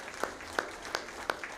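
Light applause at a college town hall on a presidential transition, sparse distinct claps spaced out over a couple of seconds, faint and somewhat distant in a quiet room.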